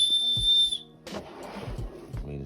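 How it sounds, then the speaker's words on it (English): A small built-in whistle on a survival bag gives one shrill, steady blast lasting under a second, close and loud, followed by someone talking. "it also has a built-in whistle"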